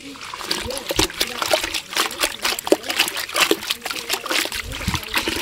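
Tap water splashes and trickles into a container outdoors, a steady uneven patter with small splatters throughout, fairly close and moderately loud, with faint voices mixed in.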